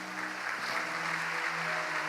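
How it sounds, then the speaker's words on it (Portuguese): Steady applause from a church congregation at a celebration service, a dense continuous clapping that holds at an even level from a crowd at some distance. "Você pode dar um aplauso ao Senhor?"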